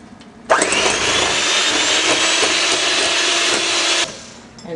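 A blender runs loud and steady on pudding batter with sugar added, starting abruptly, whirring evenly for about three and a half seconds, then cutting off.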